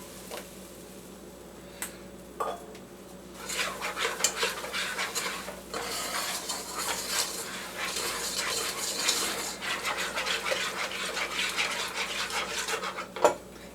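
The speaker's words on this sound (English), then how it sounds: "And then we're going to add a cup of lemon juice." Lemon juice poured and stirred into lemon meringue pie filling in a pot, heard as soft liquid sloshing with repeated clinks and scrapes of a utensil against the pan, close and fairly quiet, with no talking.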